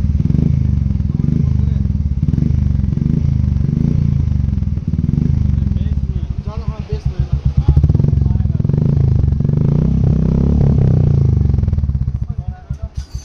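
A Royal Enfield Classic 350 fitted with an aftermarket silencer thumps loudly up close, its deep, rhythmic exhaust beat swelling as the throttle is blipped and then settling back to idle.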